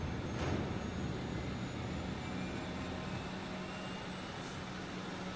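A spaceship engine in The Outer Worlds hums steadily as it powers up, a sustained even drone with a faint whine layered on top, carrying alone without voices.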